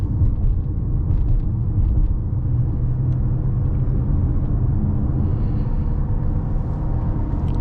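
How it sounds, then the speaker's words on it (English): A 2020 Mercedes GLB SUV driving along a forest road, heard as a steady low engine and road rumble with tyre noise, fairly loud and continuous with no talking. "Now let's try how this car behaves here on the forest road."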